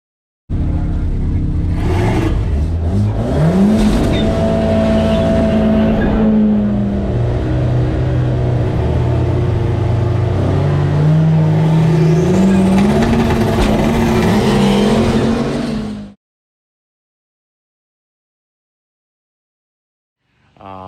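Cars race at the duct tape drags, engines revving loud and close with rising and falling pitch sweeps as they accelerate and shift, a heavy rumble running for about sixteen seconds before cutting to silence.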